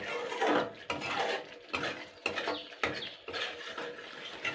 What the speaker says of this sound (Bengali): এইভাবে এইভাবে কিন্তু নাড়তে হবে